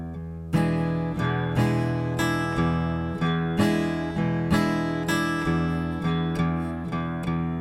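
An acoustic guitar plays a blues shuffle at a slowed tempo, each loud, close chord struck with an uneven long-short lilt, about two hits per second, with no voice over it.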